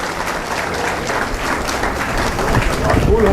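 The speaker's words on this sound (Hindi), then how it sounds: "मैं चाहूंगा कि आप जोरदार तालियों से इनका स्वागत कीजिए" Loud, dense audience applause greets a guest at a mushaira gathering in Sikanderpur, with a continuous wash of clapping that swells slightly toward the end and voices audible beneath it.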